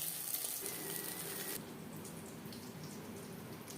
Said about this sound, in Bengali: এভাবে প্রত্যেক ব্যাচের বেগুন ভেজে নেব